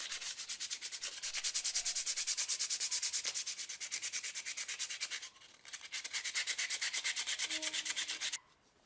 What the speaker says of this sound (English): now I need to give it a bit of a sand